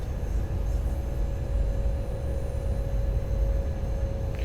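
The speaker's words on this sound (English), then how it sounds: "we had to wait for the Euston to Manchester service to pass" A steady low rumble runs through a train simulator game as the Euston to Manchester service passes on the West Coast line, holding an even drone with a faint constant tone throughout and no talking.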